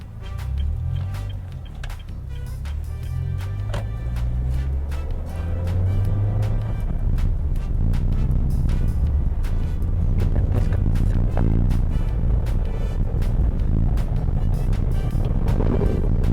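A Honda Brio Satya E MT hums steadily from inside the cabin on a test drive, a low engine drone rising slightly as it picks up speed, with road noise throughout and no talking.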